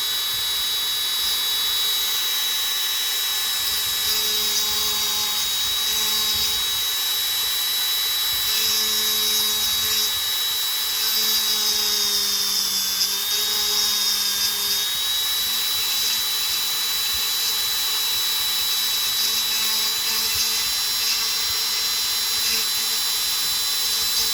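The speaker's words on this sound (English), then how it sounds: "get most of this out with the Dremel" Dremel rotary tool grinding through a plastic model car hood, a high continuous whine that shifts pitch slightly as it bites, close and steady throughout with no talk.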